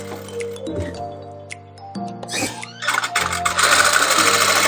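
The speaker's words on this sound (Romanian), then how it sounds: "Și apoi o cusătură simplă dreaptă până la marginea materialului." A sewing machine stitches a straight seam to the fabric edge while a simple blouse is being made. A loud, close mechanical whirring comes in short runs with brief pauses, then settles into a faster, steady rattling run at the end.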